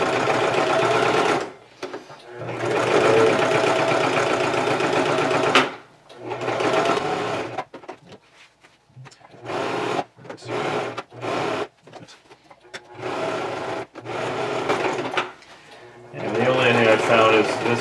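A sewing machine stitches Velcro onto water-resistant hockey skate boot covers, running in several bursts of steady mechanical whirring separated by brief pauses, with a person talking between and over the stitching.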